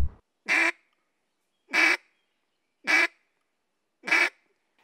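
A handheld duck call is blown in four evenly spaced, loud, clipped quacks, each with a sharp start and hard cutoff, separated by about a second of silence with no talking.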